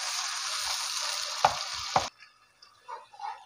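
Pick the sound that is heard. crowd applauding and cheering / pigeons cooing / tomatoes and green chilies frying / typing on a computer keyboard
tomatoes and green chilies frying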